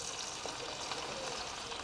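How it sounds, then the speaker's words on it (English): Fresh marinade poured over a hot barbecued lamb joint stuffed with herbs, mozzarella and breadcrumbs, giving a steady, soft liquid splash and trickle at close range for a couple of seconds. "I'll just pour it on top of my joint like this."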